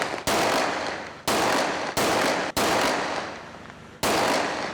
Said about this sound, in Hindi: उन पर गोलियां चलाना शुरू कर दी ताकि यहां से फरार की राहें हमवार हो जाएं